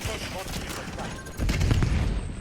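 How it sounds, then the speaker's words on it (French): Rapid automatic gunfire crackles in the Warzone battle royale game, a dense burst that swells louder halfway through, with a voice speaking over it. "On me tire dessus."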